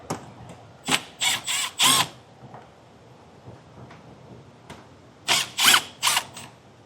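Phillips screws being driven out of trim on a 2023 Kia Telluride with a power driver, heard as two clusters of short, close whirring bursts separated by a quiet pause, with no one talking.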